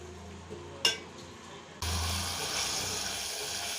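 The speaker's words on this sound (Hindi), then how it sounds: "अच्छे से इसे चलाएं और इसे भूनें।" Bottle gourd (lauki) kofta mixture with spices is stirred and fried in an oily pan. A brief clink comes first, then a sudden, steady, close sizzle holds to the end.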